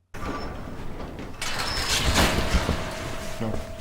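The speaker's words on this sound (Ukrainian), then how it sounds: "відкриває попри спротив підіймальні двері крамниці" A shop's roll-up door in a horror video game rattles and grinds open in one long continuous noise, growing louder partway through, with a faint mechanical hum near the end.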